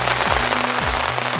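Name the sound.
rain falling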